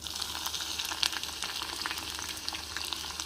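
Onions sauté in a pan with dried red chillies, giving a soft, steady crackling sizzle with quick popping bursts, fairly faint and uninterrupted.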